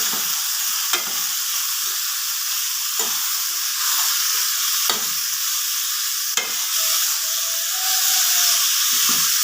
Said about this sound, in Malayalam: പയർ ഈ എണ്ണയിൽ ഒന്ന് വഴന്ന് വരട്ടെ ഇളക്കി കൊടുക്കാം